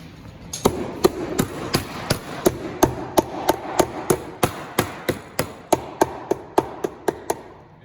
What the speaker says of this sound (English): So you simply take a hammer